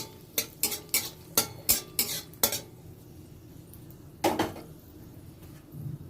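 Dry red chillies hit hot mustard oil with a sizzle as a metal spoon stirs briskly, giving a quick run of about seven scraping strokes against the pan, a pause, then one more stir; close and fairly loud, no talking.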